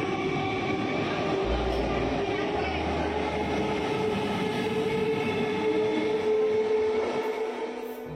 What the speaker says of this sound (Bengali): উলুবেড়িয়া স্টেশনে এসেই দেখি একটা ট্রেন চোখের সামনে দিয়ে বেরিয়ে গেল।